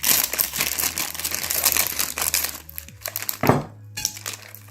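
An instant noodle package is opened up close, with crinkling plastic wrapper, rustling and sharp crackles, then a few separate crunchy rips and handling sounds as the bag is pulled apart.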